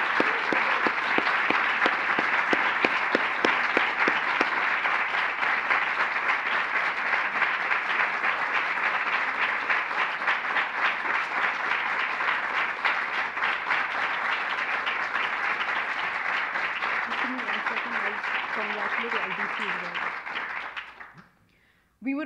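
A graduation ceremony audience gives sustained, loud applause for a departing professor, a dense and steady ovation that holds for about twenty seconds before quickly dying away.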